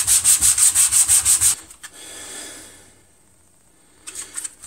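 A Veritas sanding block rubs back and forth over wood in a workshop while shaping a handle for a Stanley No. 4 plane, about eight quick rhythmic strokes, then quiet, then a few more strokes at the end.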